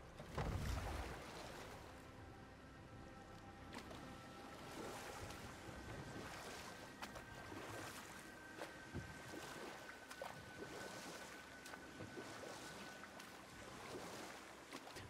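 A small boat moves across open water in the video game God of War, with soft lapping waves and faint wind noise, steady and fairly quiet throughout.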